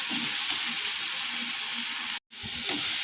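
Onions frying with salt in a pan for a Tamil-style greens-stem kootu, a steady broadband sizzle and hiss running throughout with a brief drop-out near the end, no voices.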